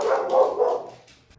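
A dog barking at home indoors, a few quick sharp barks run together and fading out, fairly close and loud, with no talk.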